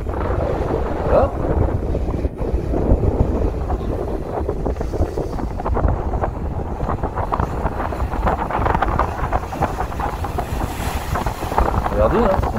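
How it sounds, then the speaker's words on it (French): Wind and water noise around a jet ski out at sea, a steady broadband rush with gusty buffeting on the microphone and waves washing throughout, the craft's engine not standing out. "on entend plus les vagues finalement que le jet en question"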